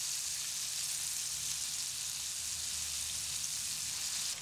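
Chicken breast frying in hot oil as it is turned over, a steady soft sizzle and crackle with a faint bump at the very end, no voices.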